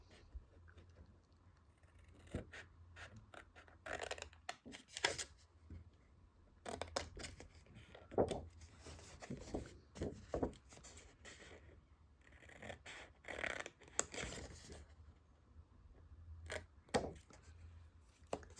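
Scissors snipping through paper as panels are trimmed from a 6x8 sheet to make a handmade envelope, a close series of short, crisp cuts in irregular bursts with brief pauses between, no talking.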